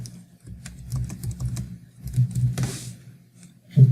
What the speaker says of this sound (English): So type it in